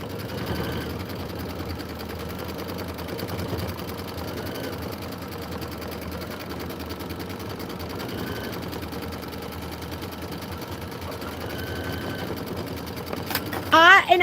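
An Aveneer Lumina sewing machine stitches quilt sashing with a soft, steady mechanical hum that runs on under people talking nearby.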